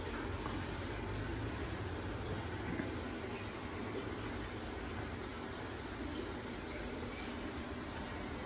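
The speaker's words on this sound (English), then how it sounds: "sound of the water trickling down" Continuous soft trickling and splashing of water from a fountain, a steady hiss-like flow with no pauses, moderately close and fairly quiet.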